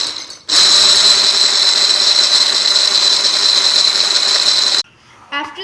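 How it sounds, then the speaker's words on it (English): An electric hand mixer whisks eggs to stiff peaks for a flourless chocolate cake, a loud steady whirring buzz running for about four seconds before cutting off, followed by a brief quieter clatter. "The next step is to whisk the eggs until you get stiff peaks."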